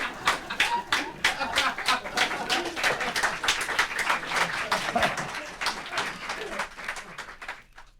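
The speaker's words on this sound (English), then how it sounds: "the crowd here at the airport cannot be held in check much longer" Excited crowd at an airport greeting an arriving guru: dense, continuous cheering and clapping with bursts of applause, fairly close and loud throughout, with voices mixed into the din.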